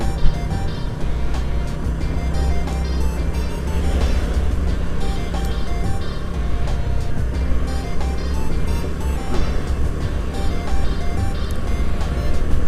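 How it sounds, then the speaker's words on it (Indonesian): A logistics truck on a road through an industrial area rumbles past close by, a loud and steady engine and tyre roar that holds for the whole stretch. "Truk Hiba Logistik, Hiba Group dari plat B ya"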